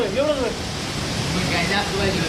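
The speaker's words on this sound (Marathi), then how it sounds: "तर हे आहे माझ्या मागचा हा धबधबा" Thoseghar waterfall roars in a constant, broad rushing wash of falling water close by, while someone speaks over the noise.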